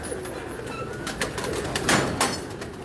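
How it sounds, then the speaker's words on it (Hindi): Banke Ferozpuri pigeons in breeding cages coo softly, with low, overlapping calls and a few brief higher chirps against a steady background. "बांके फिरोजपुरी कबूतर है"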